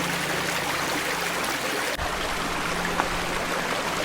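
A creek on the Beaver Lake Trail in Sitka, Alaska, flows in a steady, full wash of running water, close and continuous, with no voices.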